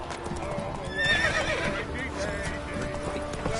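A horse in The Witcher 3 gallops with rhythmic clip-clopping hooves and lets out a clear neigh, all under a rider's voice and game ambience.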